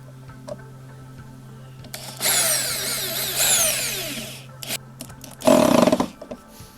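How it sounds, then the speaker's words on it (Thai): A power drill or driver whirs in short bursts while bolts are fastened into a recycled PVC pipe chicken feeder, loud and close, with a final sharp burst near the end over a steady background hum. "เราก็ยึดน็อตแบบนี้นะครับ ก็ใส่ 2 ตัวครับ"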